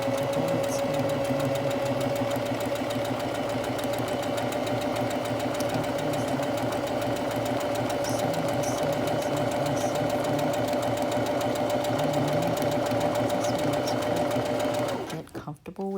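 A sewing machine stitches fabric with a fast, steady mechanical hum and rattle. It runs without a break for about fifteen seconds, then stops abruptly, and a voice talks over it.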